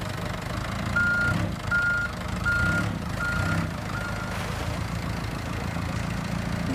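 A toy forklift truck gives five evenly spaced electronic reversing beeps over a steady low mechanical hum, close and clear, then the hum continues alone.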